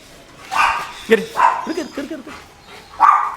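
Several dogs snarl and bark in a short scuffle, with sharp yelps and growls in bursts close by, while a man calls out to them over the noise.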